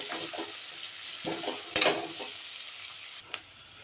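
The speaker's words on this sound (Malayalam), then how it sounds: "സവാള ഇട്ട് കൊടുക്കാം." Onions for chicken biryani frying in a pan while being stirred, a soft sizzle broken by scraping stirs and a couple of sharper clinks against the pan.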